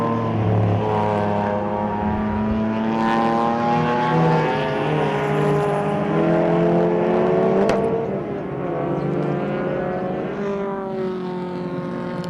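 Racing cars, a Honda and a Golf among them, circulate at Zwartkops Raceway in a loud, continuous engine roar with rising and falling revs as cars pass and shift, layered and sustained throughout.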